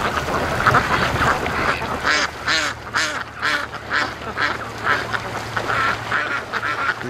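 Ducks on a lake quack in repeated bursts, several birds calling close by in an uneven rhythm, with a steady low background rumble throughout.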